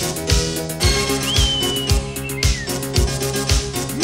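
Sharp whistles from men ring out over loud, pounding wedding party music from a DJ with a steady beat, rising and sliding above the crowd noise.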